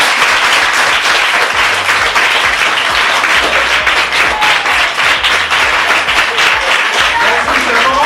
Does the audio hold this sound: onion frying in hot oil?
no